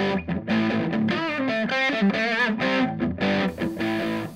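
Electric guitar played through a Jule Paycheck amp, thick distorted chords and sustained notes ringing loud and steady with short gaps between phrases, no voices.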